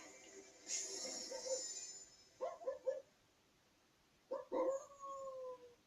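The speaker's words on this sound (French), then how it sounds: "On ouvre un coffre, il aboie." A dog howls, then gives a few quick yips and barks in Fortnite, close and clear, with short pauses in between.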